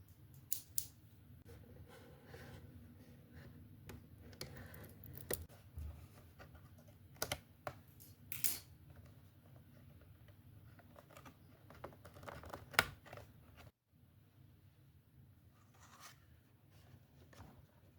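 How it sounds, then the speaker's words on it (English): Scissors snip open the packaging of a Transformers Alpha Authentic Elita-1 toy box, giving quiet, scattered close-up cuts, rustles and taps over a low background hum with a short pause; no talking. "the best part of an unboxing video, which is the snippety snip open part"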